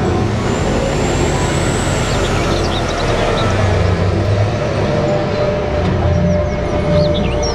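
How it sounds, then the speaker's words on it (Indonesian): Engine sound effects from a toy mining truck: a loud, steady, heavy rumble with a hissing, brake-like layer and faint high whistles running continuously throughout. "Mobil truk tambang, mining trucks."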